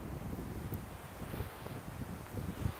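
Wind blows on a riverside walk, buffeting the microphone with a steady low rumble and gusty swells throughout. No one speaks.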